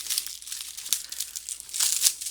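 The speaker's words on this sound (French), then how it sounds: "Donc, je vais le déballer." Plastic wrap crinkling and tearing as it is peeled off a 4K Ultra HD Blu-ray case, close and crisp, in irregular bursts with a louder rustle near the end.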